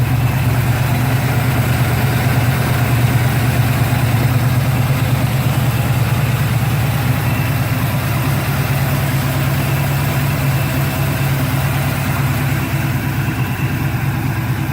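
A Chevrolet Monte Carlo fitted with a V8 crate engine from Phoenix Engines idles outdoors, a steady, deep, loping rumble that holds even and loud throughout with no voices over it.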